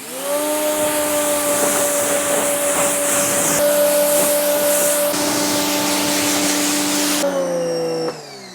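A pressure washer fitted with a 25-degree tip rinses a car, giving a loud, steady whine and hiss of spraying water that runs continuously, shifting pitch slightly near the end before dropping off.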